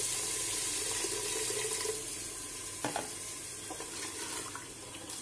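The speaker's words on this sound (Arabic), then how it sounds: "الان غادي نزيد الماء والمرق" Water poured into a pot of lamb and chickpea stew, a quiet continuous splashing stream with faint clinks near the middle, heard alone without talk.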